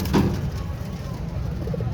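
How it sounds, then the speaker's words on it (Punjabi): Pigeons coo softly at a busy pigeon market, a low throaty call rising briefly at the start, with nearby voices talking. "ਇਹ ਜੇ ਸਲਾੜਾ ਕਬੂਤਰ"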